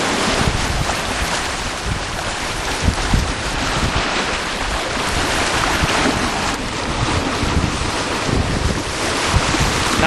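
Ocean waves wash continuously around the stern of a sailboat crossing the Pacific, with strong wind buffeting the microphone; a loud, steady, unbroken roar of surf and gusts, no voices.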